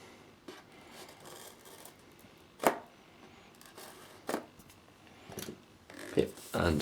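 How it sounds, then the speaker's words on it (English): A blade slices the seal on a Samsung Galaxy Nexus retail box, making a few short, sharp scratchy cuts spaced a second or two apart, close and fairly quiet over a low background. "So just cut the seal."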